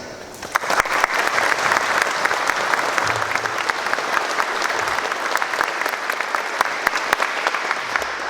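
An audience at a Coast Guard air station change-of-command ceremony applauds to welcome a rear admiral, steady dense clapping from many hands that holds for several seconds at close range.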